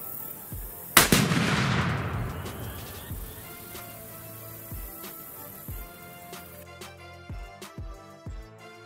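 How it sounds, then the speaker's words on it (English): A rifle-shot tannerite target detonates outdoors with one loud, sharp blast and a long rumbling decay, followed by several fainter gunshot-like pops and thumps. "my dad just shot a bullet at some tannerite, and it blew up pretty much, and it was pretty big"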